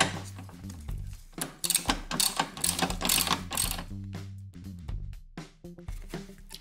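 A ratchet clicks in quick bursts while 10 mm bolts come out of the cowl of a 2015 Ford Escape, giving close, rhythmic mechanical ratcheting with brief pauses and no talk.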